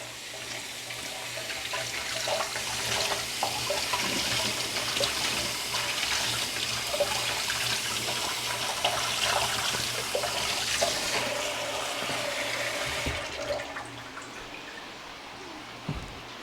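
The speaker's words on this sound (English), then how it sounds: "But first, we're gonna take that handful and wash it." A handful of vegetables is rinsed under a running kitchen tap, a steady loud rush of water with splashing that cuts off near the end, followed by a couple of light knocks.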